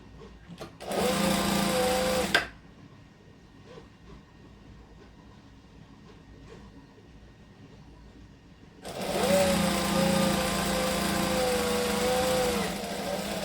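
Sewing machine back stitching a shirt seam, two loud steady motor runs separated by a quiet pause of handling noise, close and alone.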